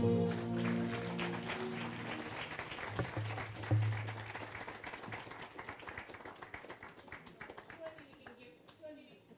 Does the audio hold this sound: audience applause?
yes